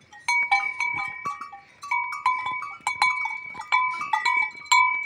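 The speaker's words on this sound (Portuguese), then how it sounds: "Olha os cabritos, vai deixar os cabritos sair?" Goats and young kids bleating repeatedly at a goat-breeding farm in northeastern Brazil, loud, close overlapping calls from several animals in quick succession, with a faint bell clinking among them.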